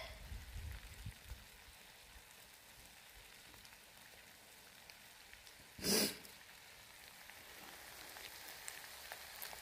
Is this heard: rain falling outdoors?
yes